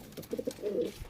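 A pigeon at a loft gives a short, soft coo, a few quick low notes followed by a longer rolling burble. It is close but quiet over faint background noise.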